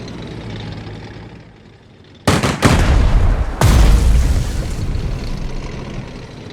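In the strategy video game Strategic Mind: The Pacific, a tank fires: two loud booming blasts in quick succession, then a third heavy boom with a rumbling tail over a low background drone.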